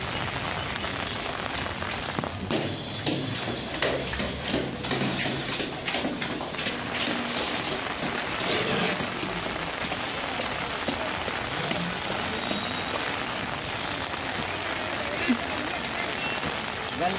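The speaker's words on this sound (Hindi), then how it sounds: "बारिश तो बहुत हो रही है।" Steady heavy rain hisses and patters on surfaces nearby at Nishat Bagh garden in Srinagar, Kashmir, with a voice speaking briefly in Hindi over the downpour.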